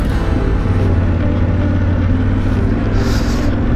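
Yamaha Tenere 700 Rally adventure motorcycle engine pulls hard in second gear on a dusty trail, a loud steady rumble with rising engine tone and wind noise throughout, no talking.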